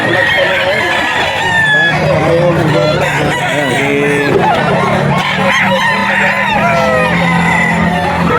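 Roosters crow repeatedly with long rising calls at the Bocaue pet market, several birds overlapping close by, over steady background chatter and clucking.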